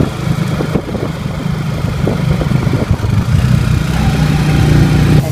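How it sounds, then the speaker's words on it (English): Steady motorcycle engine noise throughout while riding in the Philippines, a continuous low rumble with traffic-like hum, no talking. "And now I'm on a motorcycle."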